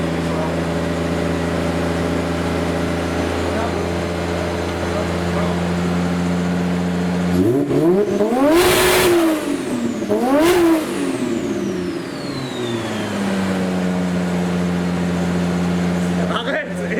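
A Nissan S14 with a JZ engine idling with a steady hum, then revved hard twice in rising, falling sweeps around the middle before settling back to idle, with voices underneath.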